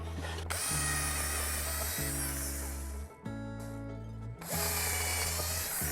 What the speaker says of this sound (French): avant de visser, rappelez-vous, on va pré-percer de façon à ne pas fendre